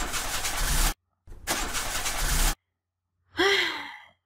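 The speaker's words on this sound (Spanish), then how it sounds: "Esperen, voy a arrancar el motor." In the game Mermaid Swamp, a car engine cranks in two rasping attempts separated by silence. A short breathy gasp or sigh-like voice sound follows.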